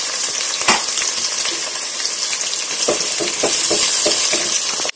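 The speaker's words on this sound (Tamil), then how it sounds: "வெங்காயம் பச்சை மிளகாய்லாம் நல்லா வதங்கிருச்சு" Onions and green chillies fry in hot oil with cloves and cinnamon for egg biryani, a loud steady sizzle broken by scraping stirs and occasional louder crackles throughout.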